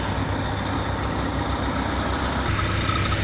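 A Kubota diesel engine on an EZG HP 20 grout pump runs at a steady idle, loud and close, with a constant low rumble and no voices.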